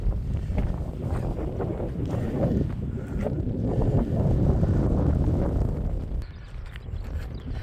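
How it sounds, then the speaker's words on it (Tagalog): Strong gusting wind on a mountain walk buffets the microphone continuously, a dense low rumble that swells and eases without pause. "Sobrang hangin."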